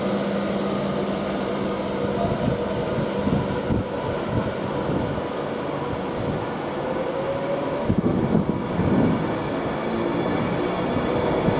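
A train pulls out of Nuneaton station on the West Coast Main Line, a continuous loud rumble and rolling roar with steady mechanical hum and occasional clunks, no voices.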